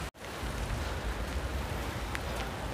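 Steady rain falls outdoors in Bhiwandi, a close, even hiss of drops hitting surfaces after a brief dropout at the start, with no voices.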